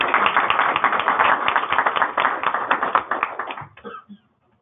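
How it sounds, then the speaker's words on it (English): Applause at a San Francisco computational design user group meeting, a small audience clapping briskly with distinct individual claps, tapering off and ending abruptly near the close. "So applause to Dennis."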